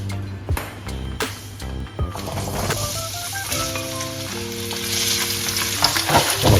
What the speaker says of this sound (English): Gonna stir fry a little bit.